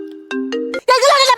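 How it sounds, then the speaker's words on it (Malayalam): A mobile phone ringtone plays a few bright, melodic electronic tones up close, cutting off after under a second as a voice begins speaking. "ഫോൺ എടുക്കരുത്"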